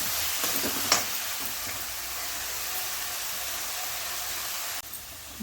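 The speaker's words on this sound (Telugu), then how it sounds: "ఇంకా సాల్ట్ వేసి మిక్స్ చేసుకోవాలి." Chicken gravy with salt being stirred in a pan makes a soft, steady hiss of gentle cooking with a brief scrape near the start; no one speaks.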